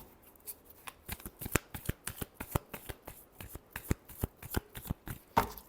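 Tarot cards being shuffled by hand in a quiet room, a rapid series of crisp riffling bursts and soft slaps, each a sharp flurry, close and clear with short pauses between.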